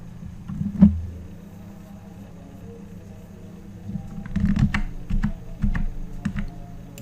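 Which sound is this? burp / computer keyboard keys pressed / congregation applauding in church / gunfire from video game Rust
computer keyboard keys pressed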